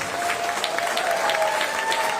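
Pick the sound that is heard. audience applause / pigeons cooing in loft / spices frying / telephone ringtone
audience applause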